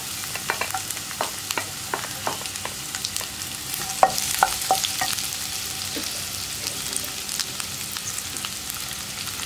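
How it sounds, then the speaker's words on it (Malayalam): Sliced onions and green chilies stir-fry with ginger and garlic in hot oil for a green peas curry, giving a steady close sizzle punctuated by repeated spoon scrapes and taps against the pan, with no talking. "അതിനുശേഷം നമുക്കിതിലേക്ക് നമ്മൾ കട്ട് ചെയ്ത് വെച്ചിരിക്കുന്ന സവോളയും പച്ചമുളകും ചേർക്കുക."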